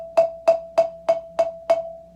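Six steady mallet strikes on a single marimba bar ring out at one pitch, each a bright wooden attack with a brief resonant tail, played solo in a quiet room.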